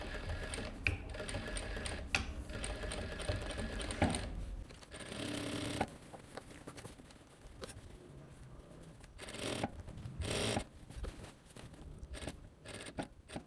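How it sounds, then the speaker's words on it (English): A sewing machine stitches the short side of a fabric placket, a quiet mechanical whir in bursts with small clicks and handling noises, starting and stopping throughout without speech. "Let's go back to the machine. Let's stitch our short side."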